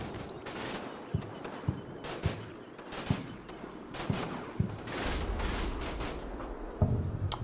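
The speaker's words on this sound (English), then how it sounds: "the tanks are shooting absolute shit out of our line" Tanks firing on the line in a war video game, a series of muffled booming shots every second or so over a rumbling backdrop of distant gunfire, with heavier rumble near the end.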